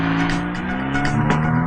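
A car speeds off with tires squealing, a loud continuous engine roar laced with screeching tire noise and a few rhythmic bursts, close and without voices.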